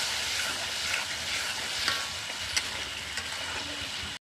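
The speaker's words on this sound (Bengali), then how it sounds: "এবার দিয়ে দেবো কিছুটা পরিমাণ টক দই" Spice paste mixed with sour yogurt fries in a pan with a dense, continuous sizzle, broken by a few sharp crackles and stirring scrapes, then cuts off abruptly; no one speaks.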